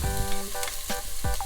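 Garlic sautés in a hot pan, with a steady close sizzle and a few soft stirring scrapes mixed in. No voices are heard.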